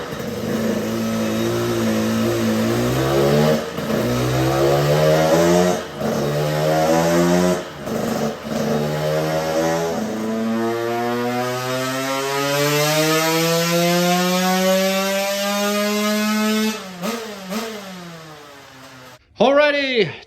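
A KTM 105 dirt bike fitted with an FF pipe, silencer and bored carb screams through a dyno pull, its two-stroke engine note climbing steadily in pitch for nearly twenty seconds, with a few brief dips before it shuts off abruptly.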